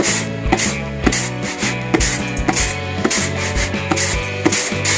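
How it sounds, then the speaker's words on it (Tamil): Rice shaken and tossed in a winnowing tray to clean out chaff, giving loud, close rhythmic swishes and soft thumps repeating about once a second, with no talk. "திரும்ப இன்னொரு தடவை நீங்கள் ஷேக் பண்ணி இது மாதிரி புடைச்சிங்க அப்படின்னா திரும்ப குப்பையெல்லாம் வந்துடும்"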